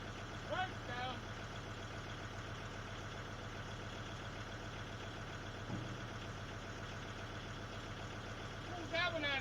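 A tractor engine idles close by with a steady low rumbling drone throughout, while someone talks over it.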